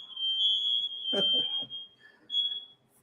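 A smoke alarm sounds indoors with a steady, piercing electronic tone that persists through most of the moment, briefly interrupted by a burst of talking and other voices nearby.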